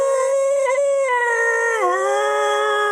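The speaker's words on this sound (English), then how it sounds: "it just lets out an incredible roar" A creature lets out a long, sustained, wavering roar of pain, loud and close, rising slightly then sliding down in pitch, sounding howl-like and carrying on alone without talk.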